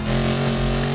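A Bugatti Veyron engine in the NFS Carbon Redux video game drones with a steady, loud, deep tone for a brief moment.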